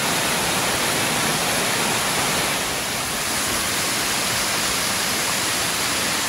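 Fudo Falls, one of the waterfalls along the Akame 48 Falls trail, pours with a dense, steady broadband roar, close and loud, unbroken throughout.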